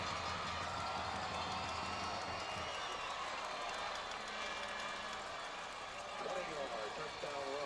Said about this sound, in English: the Patriots fans finally have something to cheer about